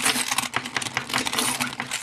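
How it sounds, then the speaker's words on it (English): Metal keys are rubbed hard across the screen of a Nokia Lumia 920 phone, producing a dense, continuous scratching and jangling, close and fairly loud with no talking. "So we'll go ahead and use a key on it directly."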